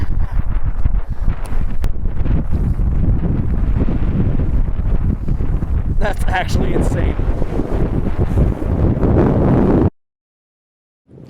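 Loud, heavy wind pounds the microphone in a constant roar on open water by a bass boat, with a brief spoken remark partway through, before the sound cuts off abruptly.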